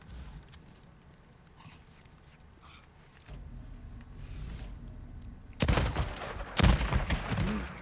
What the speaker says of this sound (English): 2 shotgun shots to the face.